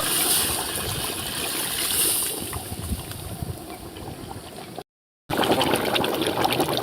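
Water splashes and trickles steadily into a cooking pot of ram-head mutton curry with spices, a continuous liquid pouring sound with a brief dropout near the end, no voices.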